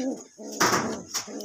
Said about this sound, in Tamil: நம்ம ஒரு குஞ்சு பொறிச்ச புறா